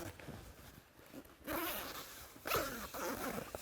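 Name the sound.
zipper being closed on an inflatable air tent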